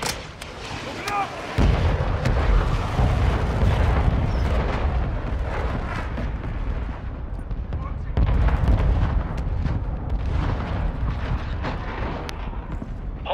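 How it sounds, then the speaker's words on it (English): Mortar strike explosions in Call of Duty: Modern Warfare II crash in as a heavy, continuous barrage of deep booms and rumbling blasts, loud and sustained, with a fresh surge of impacts partway through. "Hostile mortar strike near your position!"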